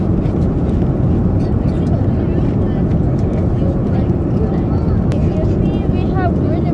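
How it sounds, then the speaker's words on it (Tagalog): Jet airliner beginning to roll, a loud, steady low engine rumble and cabin hum filling the whole stretch, with faint murmuring voices beneath. "Sa wakas, umandar din ang eroplano."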